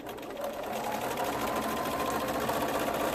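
A sewing machine stitches in a fast, steady mechanical whir for a few seconds, close and continuous.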